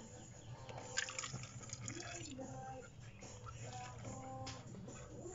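Motor oil is poured from a quart container into the 2.0 engine of a 2020 Hyundai Kona during an oil change, making a faint, steady trickling gurgle heard close by with a few small knocks.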